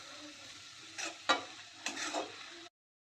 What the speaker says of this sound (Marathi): त्यानंतर 2 चमचे शेंगदाण्याचं कूट घालते. सर्व मिक्स करून घेते.